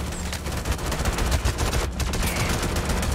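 Dense, continuous gunfire during a player-versus-player fight in Star Citizen, rapid shots crackling together without a break, loud and busy throughout, with no voices over it.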